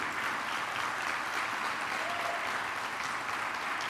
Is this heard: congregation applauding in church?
yes